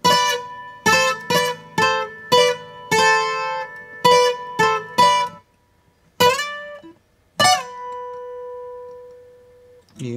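Bright requinto guitar runs through a passage, a string of crisp plucked double-stops in uneven rhythm, broken by short pauses and a sliding note, ending on a sustained ring. Played solo, close and clear.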